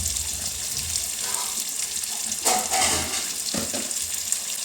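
Onions frying in a pan with salt, a low sizzle punctuated by a few brief louder bursts of spatter and stirring, no voices.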